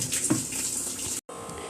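Water runs steadily from a tap as water is drawn for drinking, a close, hissing stream with a brief cut near the end before it continues.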